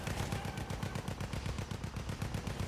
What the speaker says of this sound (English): Nah, I like using my pretty machine gun